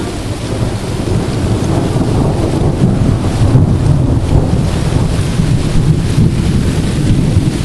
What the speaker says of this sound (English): Oh, the wind is very strong.